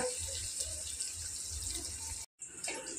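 A glass of water pours into a cooking pan, a close, steady splashing rush lasting a couple of seconds before a brief silence and a short final splash.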